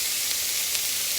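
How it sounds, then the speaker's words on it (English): Onions dropped into hot coconut oil sizzle steadily in a pan, a close, continuous bright hiss with faint crackles and no pauses. "Do you hear it sizzle?"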